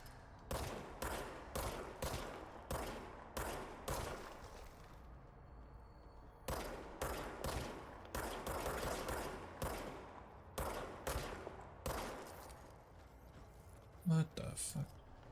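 Bursts of rapid gunfire from a charge-based weapon in the video game Control repeat in quick clusters separated by short pauses, with a brief sharp sound near the end.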